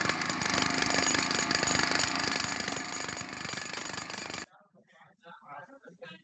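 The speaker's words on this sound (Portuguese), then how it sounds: "Ou de um motor aqui" A steady, loud mechanical drone like a running engine fills most of the clip, then cuts off abruptly, leaving faint scattered sounds.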